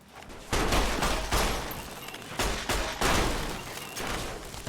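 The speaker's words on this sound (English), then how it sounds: "Love the knockback perk on shotguns." Shotgun blasts from the video game Fallout: New Vegas boom in quick succession, four or five loud heavy shots with short decays, no talking.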